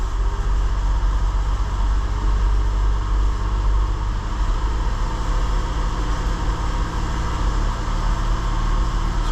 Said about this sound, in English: Try to give it a little bit of a raise the RPM a little bit.